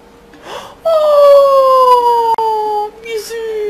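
A dog gives one long, loud, slowly falling howl in the pirate action game Assassin's Creed 4 Black Flag, close up and dominating, followed by a shorter second howl, with brief rustling before it.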